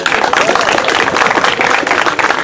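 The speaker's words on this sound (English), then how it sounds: "If we can give him a round of applause" An outdoor crowd at a march against ICE in Morgan Hill, California, applauding steadily and loudly throughout with dense clapping for the next speaker.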